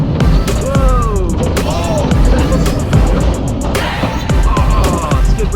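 Roller coaster brakes skid the cars to a halt on a wooden-themed family coaster at an Oregon amusement park, a loud, sustained grinding roar with rattling and squealing tones sweeping up and down throughout.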